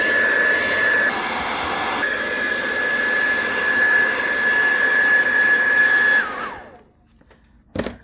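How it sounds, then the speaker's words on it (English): A hair dryer blasts hot air onto a Xiaomi Note 8 Pro phone to soften its adhesive, a loud steady whooshing roar with a constant whine that cuts off abruptly, followed by near silence and a brief clunk. "I'm going to blow some hot air so it does melt the actual adhesive"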